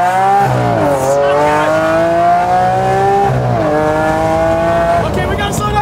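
A Lamborghini Aventador's 6.5-liter V12 pulls hard through the gears, its harmonics climbing steeply, dropping at each shift, then climbing again, loud and close from inside the car with tire noise underneath.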